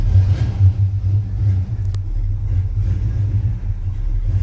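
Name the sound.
Chevy GMC squarebody truck engine cranked and running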